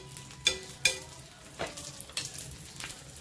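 Ghee hitting a pan of bottle gourd uttapam gives a soft, steady sizzle and crackle, with a few sharper spatters and clinks standing out above a low frying hiss, close and quiet with no talking.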